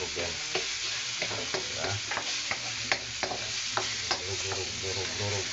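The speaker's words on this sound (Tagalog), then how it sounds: "Kailangan natin madurog yung kamatis. Kailangan madurog yan." Tomatoes crushed and stirred in a frying pan for salmon head sinigang with miso, giving repeated scraping, tapping spoon strokes over a steady low sizzle, close up, with a brief spoken word.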